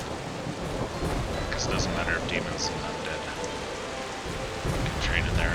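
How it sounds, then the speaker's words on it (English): Thunder from lightning strikes in the game Dungeons 4 rumbles over steady rain, constant and loud, with a voice talking over it. "Oh, that's the lightning strikes."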